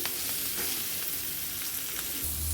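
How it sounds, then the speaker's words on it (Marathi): Green chillies, slit lengthwise, fry on a hot tawa with a steady, close sizzle and faint crackle, plus a low rumble entering near the end; no one speaks. "थोड्या फ्राय झाल्या मिरच्या"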